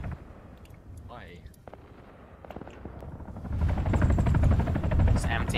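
In Arma 3, a Black Shark attack helicopter thrums overhead during a large rocket strike. Faint rotor noise and distant booms swell into a heavy, rumbling barrage in the second half, while voices talk over radio.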